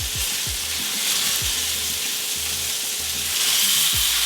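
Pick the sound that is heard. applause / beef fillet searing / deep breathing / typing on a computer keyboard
beef fillet searing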